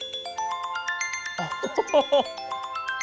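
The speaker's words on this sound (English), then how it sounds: "let's not forget about the all-new alert and ringtones. My favorite right now is Waves." The iOS 7 Waves ringtone plays on an iPhone as a bright, repeating melodic chime pattern at steady volume, with a short spoken exclamation cutting in over it midway.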